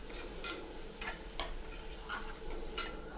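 Onions sautéing in a pan for onion chutney, a spoon scraping through them in repeated quick strokes over a faint, steady sizzle.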